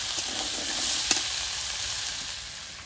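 Taro frying in a pan with whole cumin, bay leaf, dried chilli and whole tomatoes, a loud continuous sizzle with a single sharp tap partway through, close up with no voices.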